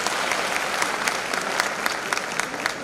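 An audience at a student awards ceremony in Udaipur claps steadily and loudly for the whole team, dense continuous applause filling the room from start to finish.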